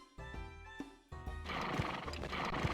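A horse neighs in the video game Animaniacs: The Great Edgar Hunt, shown as a sick horse in a Wild West set: a clear, close whinny, followed by a steady run of hoof clip-clops.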